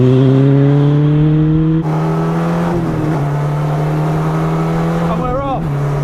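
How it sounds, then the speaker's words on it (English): Light Car Company Rocket sports car under throttle through a corner, a loud, close, buzzing engine note that holds steady, dips on a gear change, then rises again with a brief rev at the end. "Pitch it into the corner, apply a bit of throttle."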